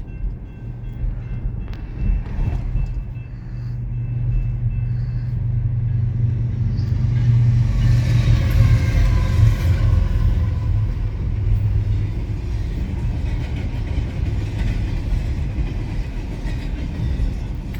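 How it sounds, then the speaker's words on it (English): A BNSF freight train rolls past, rising from a distant rumble to a loud, close roar of wheels and cars that holds steady to the end. "Here comes the train."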